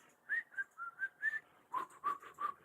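A person whistles a simple tune with pursed lips, a run of about nine clear, sustained notes in steady succession, close and alone with no talking.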